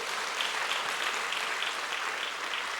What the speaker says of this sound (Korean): 그분도 한번 박수 한번 쳐주세요.